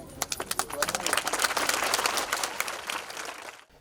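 An audience at a school visit applauds for children, a dense burst of close clapping that swells and then fades out over a few seconds.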